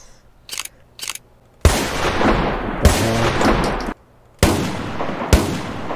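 A shotgun fired in Minecraft with the Decimation Mod: two small clicks, then three loud, close blasts about a second apart, each a sharp crack trailing into a sustained noisy roar, with no voices.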